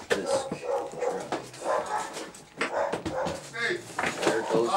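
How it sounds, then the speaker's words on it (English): A friendly dog barks, whimpers and yips in repeated close bursts over a few seconds. "Dog is very friendly."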